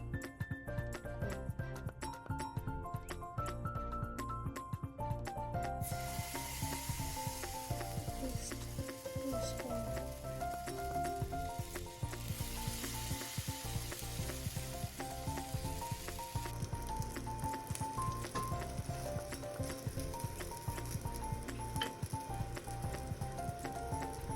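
Food sizzles and crackles in hot oil, a dense, steady frying hiss that continues throughout with small pops and no talking.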